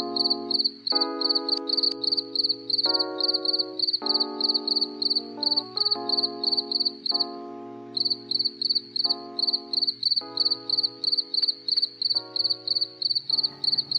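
Crickets on a cricket farm, kept in containers where eggs and young crickets mix, chirp in a dense, unbroken pulsing trill with lower droning tones swelling and fading beneath it.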